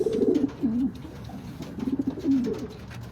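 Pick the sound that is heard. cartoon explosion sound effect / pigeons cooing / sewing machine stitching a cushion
pigeons cooing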